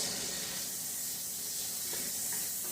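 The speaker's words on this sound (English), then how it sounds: "So I'm just sauteing my onions a little bit." Onions sautéing in a pan for ratatouille give a steady, soft, even sizzle that holds at a low level throughout, with no voices.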